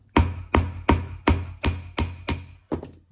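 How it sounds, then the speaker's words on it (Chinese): A hammer flattens a metal terminal that has been slipped over a soft electrical wire. About eight sharp, close metallic blows land at an even rhythm, alone and without talk. "接下来用锤子把它砸扁"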